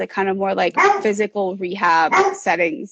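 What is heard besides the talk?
dogs barking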